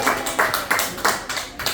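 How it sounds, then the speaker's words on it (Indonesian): A small group claps in a classroom or teacher-training session, a short burst of about six or seven irregular, fairly close hand claps with no talk over them. "Jadi beri tepuk tangan untuk Bu Ismi."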